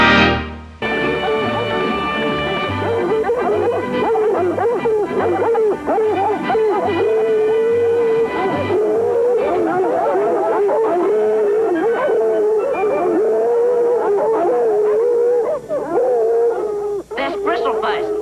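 Hound dog Bristle Face howling and baying on a trail, a long, sustained, wavering howl that carries on without a break for many seconds, up close and loud over faint background sound.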